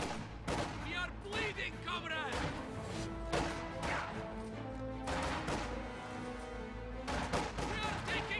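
Gunfire from a strategy video game battle with conscripts, grenadiers and a machine gun crackles in dense bursts and scattered shots under a continuous commentator voice.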